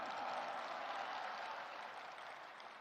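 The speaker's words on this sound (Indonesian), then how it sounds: "Kita berikan tepuk tangan untuk itu." A large political rally audience applauds in a faint, distant wash of clapping that stays steady and slowly fades.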